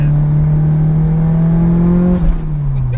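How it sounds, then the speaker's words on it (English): A 500 bhp daily-driven Mitsubishi Evo 8 engine runs at low revs, producing a loud, close, steady droning hum with a faint flutter, and the pitch dips slightly toward the end. "it's got a bit of a flutter as well. Just keep it a bit higher in the rev so it stops jolting"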